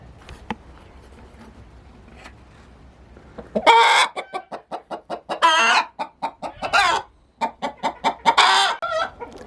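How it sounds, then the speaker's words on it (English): A hen clucks close by in a rapid, agitated series of loud squawks and cackles after a quieter stretch. "I actually got here just in time to see one of our hens lay an egg"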